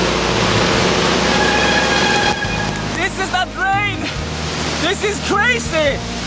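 A torrential downpour hammers down around someone on a bike, a loud, dense, unbroken hiss of rain, with a voice talking over it in the second half.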